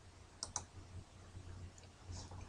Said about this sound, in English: Click on the U button.